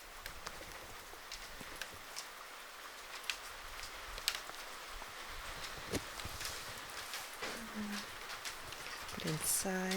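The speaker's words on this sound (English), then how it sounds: "It's storming out there, and in here it is so cozy" Rain storms outside a hike-in forest service cabin in Alaska, a steady patter of drops with irregular louder taps on the roof, heard from inside; someone speaks softly near the end.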